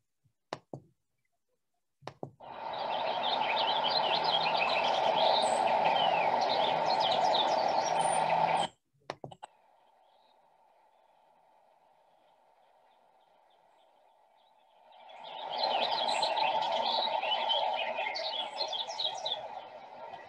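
A house finch or purple finch sings a long, busy warbling song from a treetop, pauses while a steady tone hums, then sings again; no voices.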